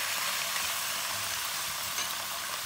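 Half a kilo of washed beef frying in hot oil in a karahi, a steady bright hiss and crackle of sizzling that holds evenly throughout, close and loud with no talking.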